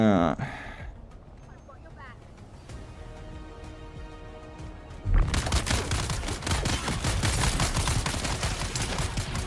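Weapon fire in the video game Dune Awakening erupts midway as a loud, dense barrage of rapid shots that keeps going to the end, after a quieter stretch with faint game sounds and some talk.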